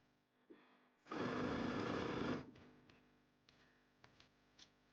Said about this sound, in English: keep sewing all the way around